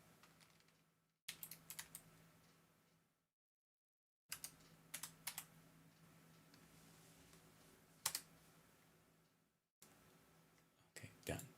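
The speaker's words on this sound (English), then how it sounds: "My keyboard stopped working for a second, so I had to re-enter it." Bursts of rapid clicking keystrokes on a computer keyboard, quiet and close, broken by brief silent gaps, with faint talk underneath.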